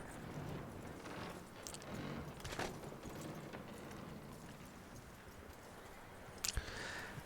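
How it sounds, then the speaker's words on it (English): Faint, scattered hoof clops of a horse being led outside in Red Dead Redemption II, under a low background rumble, with a few sharp knocks near the end. "Now we'll lead the horse outside."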